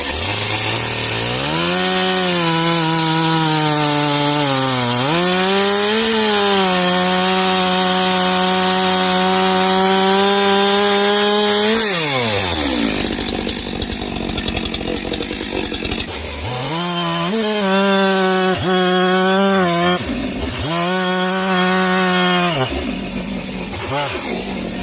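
Chainsaw bucking a cedar log into sections, engine revving loud and close in a long sustained cut, then dropping briefly before several shorter revving bursts.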